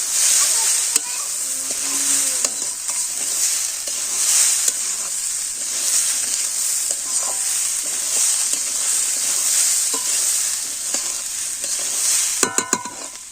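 Rice and lentils frying in a pan for vegetable khichuri, a steady bright sizzle with repeated scraping stirs throughout and a few sharp clinks near the end, with a voice heard faintly at times.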